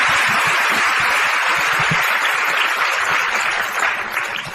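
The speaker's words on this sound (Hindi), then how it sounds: "इसकी बात पे तालियां बजाओ।" Dense, loud audience clapping at a Dada Bhagwan satsang gathering, continuous and even throughout before tapering slightly at the end.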